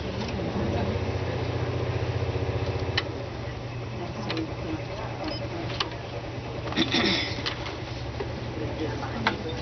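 Twin-needle sewing machine fitted with an edge joining foot, running in a steady rapid mechanical chatter for the first few seconds, then pausing amid light clicks and handling noises while a person talks.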